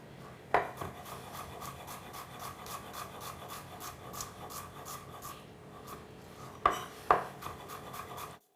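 A knife slices through an onion on a cutting board, soft rhythmic scraping strokes with a few sharper chops near the start and end, quiet and close with no talk.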